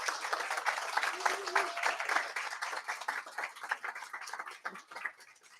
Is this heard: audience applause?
yes